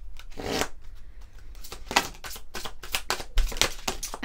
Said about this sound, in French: on va prendre quelques cartes de l'oracle guidance de l'univers féerique